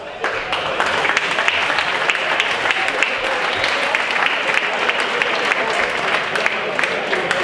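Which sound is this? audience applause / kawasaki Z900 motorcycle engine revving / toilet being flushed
audience applause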